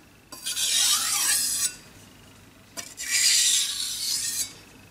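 A kitchen knife is drawn across a King KW-65 1000/6000 whetstone with no pressure beyond its own weight, giving two separate bright, gritty rasping strokes, each about a second and a half, close and clear with quiet between them.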